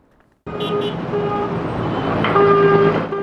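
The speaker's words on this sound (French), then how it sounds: "Coup de klaxon violent" A car horn blares in a sharp, loud blast over steady road traffic, with a couple of short honks followed by a longer sustained one.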